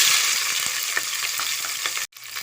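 Onions, along with dried red chillies, sizzle in hot oil seasoned with mustard seeds, making a steady, loud frying hiss with scattered crackles and pops that cuts out abruptly near the end.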